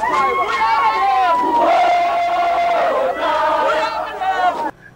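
A huge crowd of tens of thousands awaiting Nelson Mandela roars and cheers with rising, wavering shouts, loud and continuous, then cuts off abruptly near the end.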